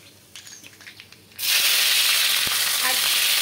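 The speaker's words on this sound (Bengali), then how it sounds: "তেলের মধ্যে কালো জিরে ফোড়ন দেব, আর কিছুটা এখানে কাঁচা লঙ্কা নিয়েছি।" A sudden loud sizzle as black cumin seeds and green chillies hit hot oil, bursting in after a second of quiet handling sounds and holding as a steady, close hiss.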